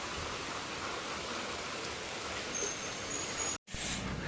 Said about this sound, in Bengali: এত বাজে বৃষ্টি, কত জোরে জোরে হচ্ছে